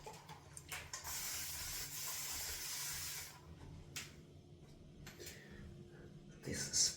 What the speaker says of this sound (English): This sprayer is really a game changer in my ladders, for sure.